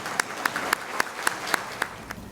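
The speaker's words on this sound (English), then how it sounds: "And you can applaud each other as well." Educators at a school reward ceremony applaud each other, a crowd of clapping hands with a few sharp, evenly spaced claps standing out over the steady patter, filling a room.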